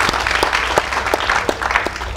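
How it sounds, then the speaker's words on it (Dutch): An audience claps in a burst of applause at a live show, a dense patter of hands that stays fairly loud and even, with a few brief voices mixed in. "Ja, klappen maar."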